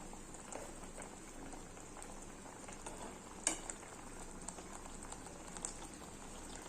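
Hilsa fish pieces cooking in mustard in a covered pan after being flipped, giving a soft, steady low sizzle and bubbling throughout with a few faint clinks, quiet and without talk.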